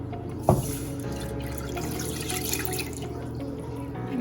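Half a cup of milk and half a cup of water pour into a container for chocolate eclair dough, a steady liquid trickle with a brief splash at the start.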